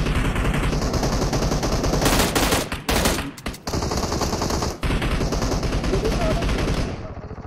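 Loud, relentless automatic gunfire from the video game PUBG Mobile: rapid bursts run almost nonstop, with short dips and breaks between about three and five seconds before the shooting resumes and then trails off at the end.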